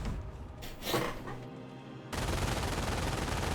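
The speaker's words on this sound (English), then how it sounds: "the rest squad is taking more fire from the MG42" MG42 machine gun fire in the Company of Heroes video game, a dense, continuous stream of loud automatic fire that cuts in abruptly after a quieter stretch of distant battle noise.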